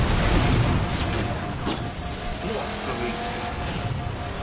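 A vehicle engine roars and revs in the Halo 4 video game, a loud continuous motor drone with a few bursts and thuds, while a person talks over it.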